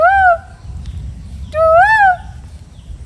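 A person's voice imitates a bird call: two drawn-out, whistling hoots with a rising and falling pitch, about a second apart, close and clear over a quiet room.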